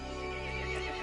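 A horse creature in Resident Evil Village lets out a brief, loud, harsh neigh that fills the moment with a dense, strained whinny and no talking.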